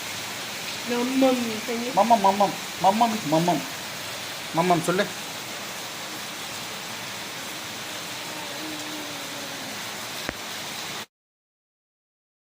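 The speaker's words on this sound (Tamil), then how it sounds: "இப்போவும் சரியான மழை பெஞ்சுன்னு இருக்கு" Heavy rain falls steadily in Chennai, a constant hissing wash that lasts the whole time. A child babbles in rhythmic syllables over it, and an adult says a word.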